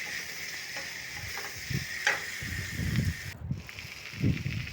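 Chopped tomatoes frying in a pan for a tomato sabzi, a faint steady hiss under repeated low scraping and stirring sounds, close and quiet with no talk.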